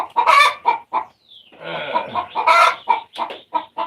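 Chickens at their roost give a rapid series of close, loud clucks and squawky calls, several birds overlapping in short bursts with brief pauses between.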